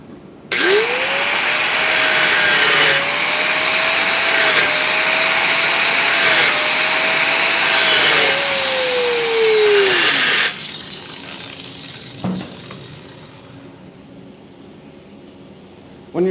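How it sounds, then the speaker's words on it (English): An angle grinder cuts into a weld to open up a small hole at the tie-in, running loud and steady for about ten seconds with its pitch dipping and rising under load before winding down, then quiet. "I'm going to grind this out just so that I can hit this tie in here."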